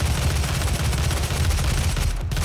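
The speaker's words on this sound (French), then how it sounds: "Je l'appelle fusil de sniper moi." Rapid gunfire from the sniper rifle in the video game Doom, a dense, continuous barrage of loud booming shots that fills the whole moment without pause.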